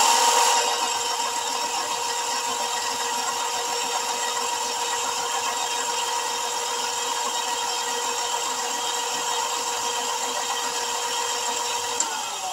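A Razor EcoSmart Metro electric scooter motor, upgraded with a larger battery, runs under throttle with a steady, even whine that stays level and close for about twelve seconds, then cuts off at the end.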